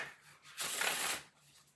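Oracle cards are shuffled in one quick riffle, a brief soft fluttering burst lasting about half a second in a quiet room.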